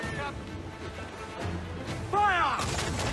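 Ship cannons firing during a naval battle in Assassin's Creed IV: Black Flag, heavy booming blasts mixed with shouting voices of the crew, with a loud burst near the end.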